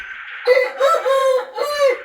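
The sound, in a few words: quails calling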